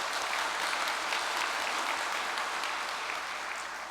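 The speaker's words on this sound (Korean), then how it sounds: "참 어머님을 위해서 다 같이 박수 한번 보내주시기 바랍니다" A lecture hall audience claps together in a steady, dense wash of applause that holds at an even level for a few seconds.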